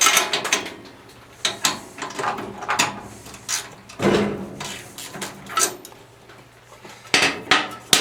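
Metal hand tools and a 13/16 spark plug socket clink and clatter in a series of sharp, close knocks and rattles during work on the carburetor of an MTD 8hp wood chipper, with no talking.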